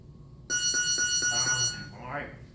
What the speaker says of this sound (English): listen for the buzzer